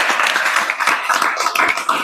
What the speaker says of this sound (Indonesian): kasih tepuk tangan untuk Rusdian